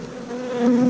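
Honey bees buzz steadily around an open hive holding a queen or laying worker, a close, continuous droning hum that swells slightly toward the end of the short moment.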